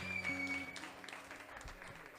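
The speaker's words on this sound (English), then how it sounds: "Let me give a big round of applause for John Condrone." A small coffee-shop audience at Grinder House in Crossville, Tennessee gives a faint, distant round of applause for a live performer taking the stage. Steady clapping continues for a couple of seconds under a low hum.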